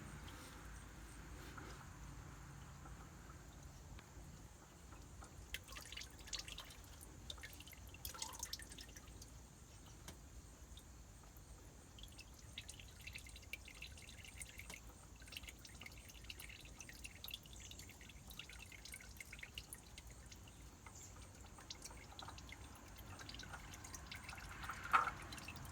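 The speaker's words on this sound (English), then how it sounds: "it's a pretty good chance a lot of this oil is going to drip out, which is the purpose of the rag or the paper towel" Engine oil dripping off a rag into an oil pan during an oil change on a 2018 Infiniti QX60, small irregular drips spread through a quiet garage background, close and faint.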